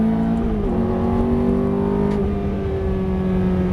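A Ferrari F430 accelerates hard and upshifts, its close, rising engine note dropping at each gear change, heard alone without talk.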